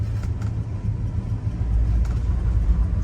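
A 1953 Mercury Monterey wagon engine idles with a low, steady rumble that deepens slightly as it is put into drive, close and continuous.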